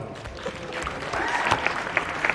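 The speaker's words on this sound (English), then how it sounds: "Give him a round of applause." An audience claps for a participant after an attempt in a juggling competition, scattered applause building to a steady patter with a few sharper close claps.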